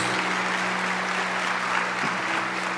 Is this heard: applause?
yes